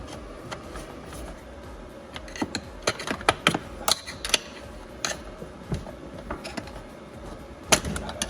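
Metal screwdrivers prying and clicking against the transmission drive pulley of a John Deere D100-series riding mower, a run of close, irregular sharp clacks and ratcheting creaks over a low background hum, with no talk.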